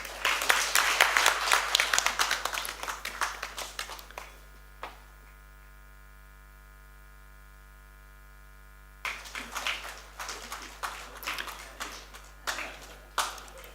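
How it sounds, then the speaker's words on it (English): A conference audience at a law and technology event claps in two bursts. The first loud round fades out, a low electrical hum fills a quiet gap, and then the clapping resumes with lighter, scattered claps. "Can we have a big round of applause?"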